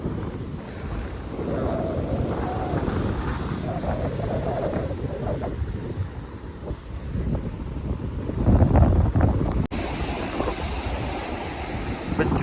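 Strong wind buffets the microphone at the seashore, a steady broadband rumble and roar throughout, with a brief dropout near the end and indistinct background sounds under the gusts.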